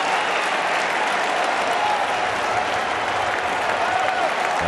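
A large crowd at a Baltimore Orioles vs Chicago Cubs baseball game cheers and applauds in a steady, loud roar that holds for several seconds without a break.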